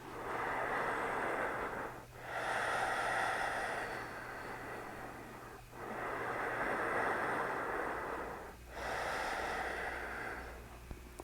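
Slow, steady yoga breathing, three long audible exhalations through the nose with brief pauses between, close but quiet over a low background hum, no speech.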